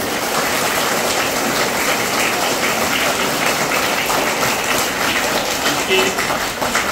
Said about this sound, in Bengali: ওনার জন্য একটা জোরে হাততালি জোরে